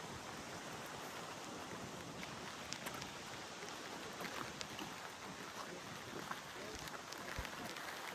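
Steady rain falls outdoors on a cold, very windy day in Edinburgh, a broad constant hiss with scattered drop ticks throughout, fairly faint and continuous with no clear voices.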